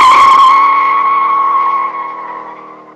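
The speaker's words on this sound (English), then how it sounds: "The vehicle goes out for a lap on the track, works up quite a bit of energy in the vehicle" A Corvette out on a test track lap gives a loud, sustained, tonal squealing whine that holds steady and then gradually fades over a few seconds.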